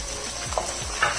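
Mutton sizzles and frys in ghee with golden-browned onions, a steady close crackling hiss with occasional stirring scrapes and small spatters, no voices.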